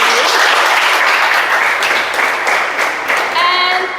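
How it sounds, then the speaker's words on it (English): Classroom students applaud after a presentation, a dense steady wash of clapping lasting several seconds, with a voice speaking briefly near the end. "Give applause again."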